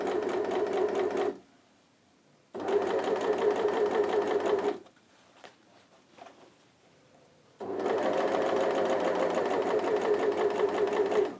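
An overlocker or sewing machine stitches fabric in three close, loud bursts of rapid whirring, separated by short pauses where the motor stops.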